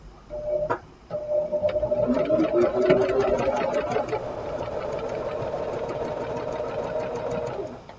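A sewing machine stitches quilt pieces together with a fast, steady mechanical whirring and ticking, close and continuous for several seconds.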